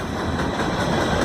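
A CSX freight train passes at speed above North Broadway in Columbus, Ohio, a steady, loud, broadband rumble of engine and rolling cars with no letup, heard close by.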